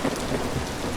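A heavy rainstorm in the video game Vintage Story gives a steady, dense downpour with a low thunder rumble under it, filling one continuous second with no voices.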